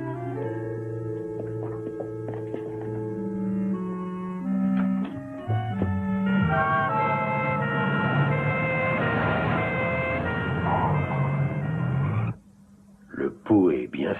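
An ambulance siren sounds loudly and steadily under French dialogue and music, its tone holding for about twelve seconds before cutting off abruptly.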